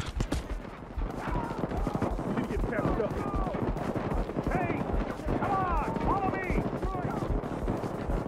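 Gunfire from the Payday 2 video game, a police shootout, sounds as rapid repeated shots and bursts mixed with game effects, with players talking over the action throughout.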